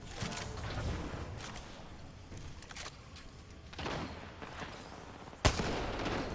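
Sharp gunshots from a gun in Apex Legends ring out in separate bursts with one loud crack near the end, close and fairly loud, with game noise between them and no talk.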